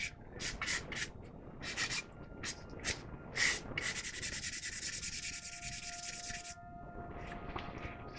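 A plastic part from a 1/48 Tamiya Spitfire Mk.1 scale model is rubbed lightly across sandpaper in short close strokes, then one longer steady rasping pass.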